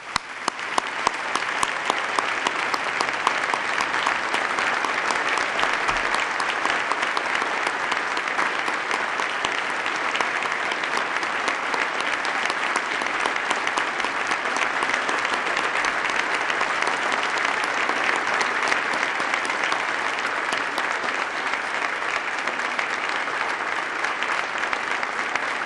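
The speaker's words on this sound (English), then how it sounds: "Please join me in a round of applause" A large audience at New York's State of the State address gives long, sustained applause, dense and even in loudness with sharp individual claps at the start, continuing without a break.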